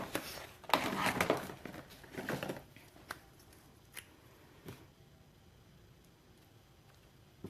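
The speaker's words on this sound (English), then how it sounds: "You notice that when I fussy cut, I don't move the scissors, I move the paper." Paper being fussy cut with scissors while crafting a stamped box, several quick snipping and rustling bursts up close early on, followed by sparse faint clicks and taps in a quiet room.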